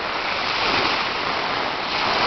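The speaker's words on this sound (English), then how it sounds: "Listen to the sound of the waves as you come back" Ocean surf washes steadily onto a beach, a continuous broad rushing hiss heard close and fairly loud with no voices over it.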